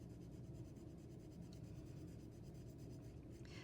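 Colored pencil shading lightly on paper, a soft continuous scratchy rubbing of quick repeated strokes, close and quiet with no voices.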